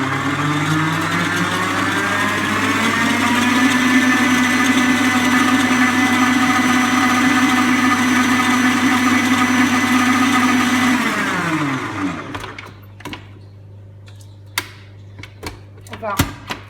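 An electric mixer whirs steadily and loudly through Haribo strawberry cookie dough for about eleven seconds, then winds down and stops, followed by a few clinks and knocks.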